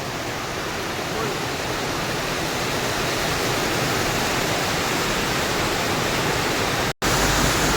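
A hard downpour roars steadily and loudly nearby, with a voice speaking over it and a brief cut in the sound near the end.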